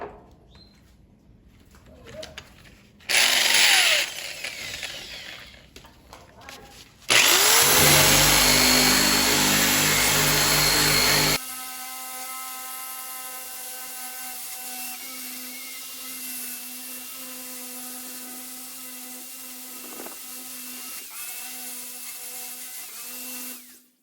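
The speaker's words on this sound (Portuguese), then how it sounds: "Fica difícil em função do ângulo da furadeira" An electric drill fitted with a strip removal disc works into corners, giving two loud grinding bursts, one short and one several seconds long, followed by a quieter steady tonal hum.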